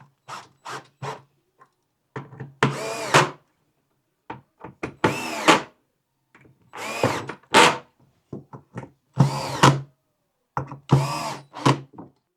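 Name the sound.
power drill fastening shower chair bolts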